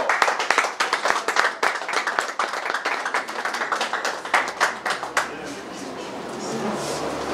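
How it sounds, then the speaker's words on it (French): An audience at a formal ceremony claps in dense, lively applause for about five seconds, then it stops abruptly and leaves a low murmuring room tone. "sous vos applaudissements"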